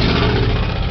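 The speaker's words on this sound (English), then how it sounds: "you can see my truck's idling" A truck engine idles close by, a brief, steady, even drone with no revving.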